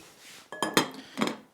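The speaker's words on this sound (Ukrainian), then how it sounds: "накриваємо кришкою" A lid set onto a pot of cabbage rolls, giving a quick cluster of bright metallic clinks and a rattle, then one more clink, close by in a quiet kitchen.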